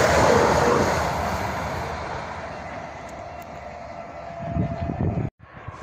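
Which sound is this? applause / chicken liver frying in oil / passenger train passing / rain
passenger train passing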